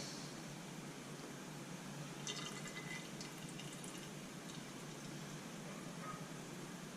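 Fork oil pours steadily into the fork tube of a Honda CB125E motorcycle, a faint, continuous liquid trickle and splash with no talking.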